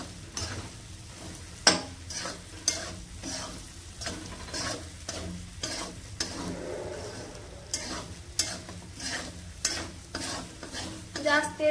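Close-up stirring of a spicy kala fry in plenty of hot oil in a kadhai: repeated scraping, clanking spoon strokes over a steady, crackling sizzle.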